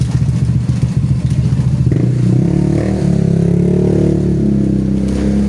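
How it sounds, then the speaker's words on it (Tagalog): A loud motorcycle engine sputters and revs close by, its rough chugging rising into a steady roar as it passes. "may maingay na motor"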